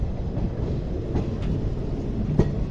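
Train number 16545 from Yesvantpur to Sindhanur pulls into Ginigera junction with a steady, loud rumble of wheels and carriages, broken by a few faint clanks.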